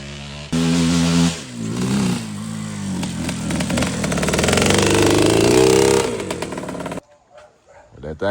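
A two-stroke motorcycle engine revs loud and close, its pitch climbing and dropping as it runs up through the gears before cutting off, with voices talking over it.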